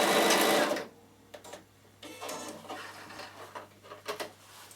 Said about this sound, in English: I can leave this on while I'm sewing, and now I can do any fancy stitch I like